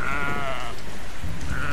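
Sheep in The Sheep Game bleat in two drawn-out calls, one at the start and one near the end, over a steady hiss resembling rain.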